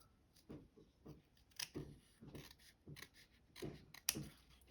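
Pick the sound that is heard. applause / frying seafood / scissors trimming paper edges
scissors trimming paper edges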